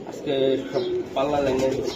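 Giribaj racing pigeons give two drawn-out coos close by, each a rising and falling murmur, with people talking nearby.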